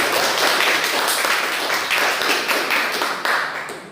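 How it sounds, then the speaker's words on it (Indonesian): A group of students claps hands together in a classroom, steady dense applause holding strong for several seconds before tapering off near the end. "kasih tepuk tangan."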